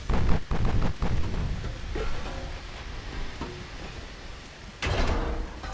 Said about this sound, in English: Eight-inch guns are doing their thing